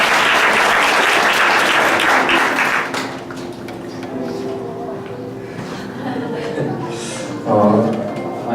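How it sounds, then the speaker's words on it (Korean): A church congregation bursts into loud applause during a Sunday worship service, clapping hard for about three seconds before the sound drops away under a voice speaking and some soft background sound. "박수 한번 해주시죠."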